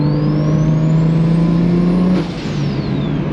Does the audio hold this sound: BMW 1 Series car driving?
yes